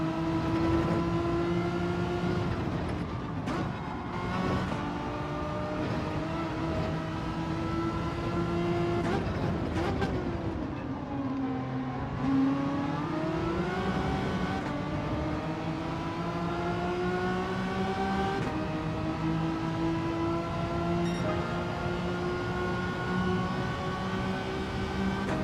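A race car engine in Gran Turismo 7 drones steadily, then drops in pitch as it downshifts aggressively, dipping and rising again through the gears with a loud, continuous whine.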